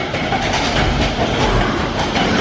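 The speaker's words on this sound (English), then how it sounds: "Can you hear that iconic click clack?" Steady clickety-clack of the Disneyland Matterhorn roller coaster's train, a loud continuous rattling rumble as the cars climb in darkness, with no talk over it.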